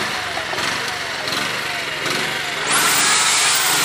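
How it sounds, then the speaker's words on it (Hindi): An electric drill powered by a generator bores into a wall, a steady loud grinding whir up close that grows more intense partway through, with a running engine beneath it. "सीधा सीधा हम वॉल ड्रिल करके देखते हैं"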